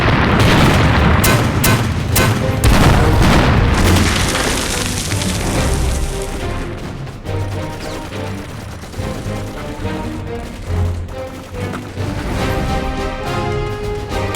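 Artillery shells exploding in a war film battle scene: a dense barrage of loud booms and crashes, several sharp blasts in the first seconds, then continuous heavy rumbling explosions with a low droning undertone throughout.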